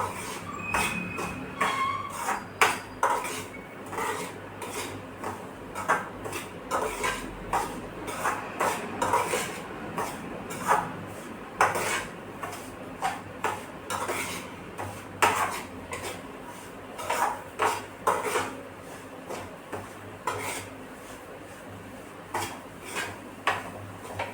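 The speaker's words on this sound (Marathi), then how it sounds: "बारीक गॅसवर आपल्याला पाच मिनटंच रवा भाजून घ्यायचा आहे" Semolina roasting in a pan on low heat for rava laddu, with repeated close clinks and scrapes of a metal spoon against the pan in an uneven stirring rhythm and no steady sizzle.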